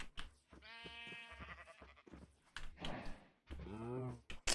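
Sheep in Minecraft give several wavering bleats in quick succession, close and clear, with a brief gap between calls.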